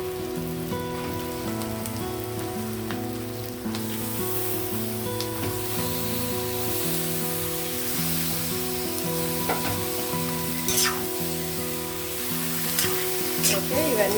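Chicken pieces frying in a hot pan with onions for biryani, a dense continuous sizzle like rain with occasional clinks of stirring, close and steady with no talking.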